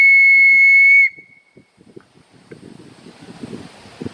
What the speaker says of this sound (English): So I'm going to blow my whistle real quick.